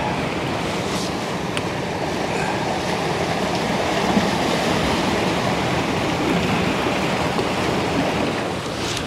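Ocean waves break into white water in a steady, loud wash of surf, a continuous roaring hiss with slight swells, heard close and without any voices.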